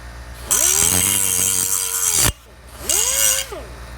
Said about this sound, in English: you can see the pipe right there that I cut there. And we're gonna dress it up a little bit.